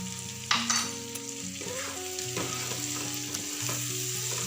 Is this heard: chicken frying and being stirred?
yes